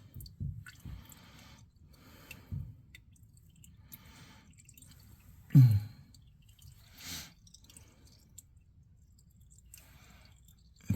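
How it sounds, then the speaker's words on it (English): Warm engine oil drains from a Kioti NS 4710 tractor during its 50-hour service, with sparse, quiet drips and a soft squishy splash now and then against near silence. "Just let that drippy drip drip."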